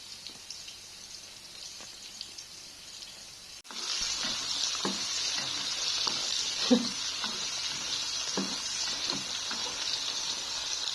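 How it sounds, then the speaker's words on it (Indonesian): Food deep-frying in a pan of hot oil, a quiet hiss that jumps to a dense, steady sizzle partway through, with scattered pops and crackles close by and no talk. "Sudah semuanya digoreng."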